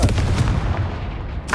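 The Confringo fire spell from Hogwarts Legacy bursts with a heavy, booming blast that rumbles low for over a second before a short second crack at the end.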